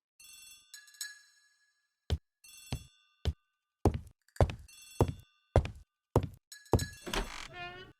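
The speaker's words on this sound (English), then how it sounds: "The telephone in the hall is ringing." A telephone in a hall rings in a video game, with bright electronic rings that sound in short bursts and come between repeated hollow thunks and knocks, alone and moderately quiet.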